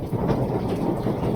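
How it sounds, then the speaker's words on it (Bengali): Rain falling at night near the beach at Cox's Bazar, a dense, loud, continuous wash of rain close by with no talking. "বৃষ্টি পড়তেছে।"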